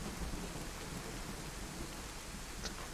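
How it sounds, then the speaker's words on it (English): Thunder from a lightning storm in the DayZ video game rumbles beneath steady heavy rain, a continuous dense roar that stays loud throughout. "Sounds like that lightning is moving a little bit further away."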